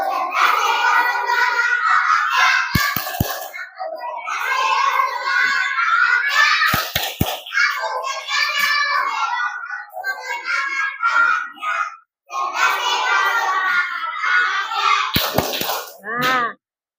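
Elementary schoolchildren in a classroom perform the tepuk afirmasi affirmation chant, loud group chanting in phrases punctuated by sharp bursts of rhythmic hand claps, ending in a quick clap sequence.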